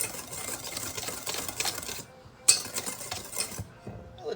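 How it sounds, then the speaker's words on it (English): Dry flour, sugar, salt and baking powder whisked together in a bowl for crumb cake, a steady run of quick light clinks and scrapes close by, pausing briefly midway before one sharper tap and a few more strokes. "And we're just going to whisk that up and just until it's well combined."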